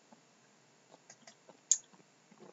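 Computer mouse clicks, a few faint, sparse ticks scattered irregularly, with one sharper, louder click near the end, close and otherwise quiet.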